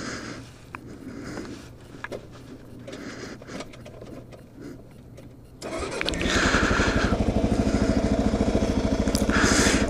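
A motorcycle engine starts at a drive-through after a quiet stretch with faint background noise, then settles into a loud, steady, close idle with a rapid even putter that carries through to the end.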